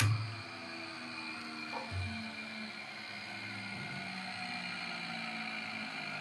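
An electric motor running through a star-delta start: a steady layered whine and hum with a bump near two seconds as the connection changes, continuous and fairly loud with no voices.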